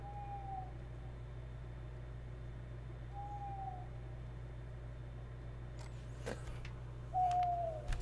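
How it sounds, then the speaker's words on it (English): In the horror video game Frosty Nights, an owl hoots in short soft calls spaced a few seconds apart over a steady low droning hum, with a louder, clearer hoot near the end and a few faint clicks. "Oh, look at the owl!"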